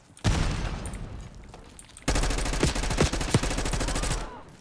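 Rapid automatic gunfire in Call of Duty: Black Ops 6, loud and close, a short burst followed by a sustained volley with sharper individual shots cutting through.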